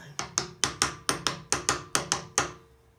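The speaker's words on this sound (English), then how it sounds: "now these later axles, just going to tap that down" An axle flange on a front axle assembly is tapped down with a hammer: eleven sharp metallic strikes in a quick, even rhythm, close and moderately loud, with the final blow ringing out before silence.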